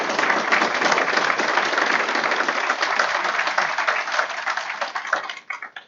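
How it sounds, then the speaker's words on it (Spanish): A church congregation claps hands in praise, a dense, steady wash of applause that holds strong for about five seconds before thinning into a few scattered claps at the end. "vamos a alabar a Cristo con nuestras palmas"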